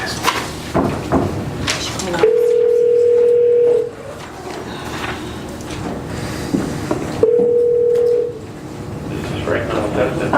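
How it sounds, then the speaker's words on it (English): Telephone dial tone on a call placed during a West Palm Beach court motion calendar hearing: two steady, loud, unbroken tones, the first about one and a half seconds long and the second about one second, separated by quiet room noise and faint shuffling. "let me give a call"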